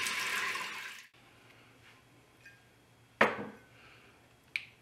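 Beef broth pours into an Instant Pot in a hissing splash that stops after a second, followed by a sharp clink of metal and a couple of fainter knocks.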